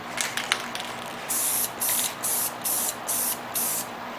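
Short hissing bursts of spray paint go onto a Hot Wheels Chevy S10 truck for a second coat, about six steady puffs in a row, close and fairly loud with no talking.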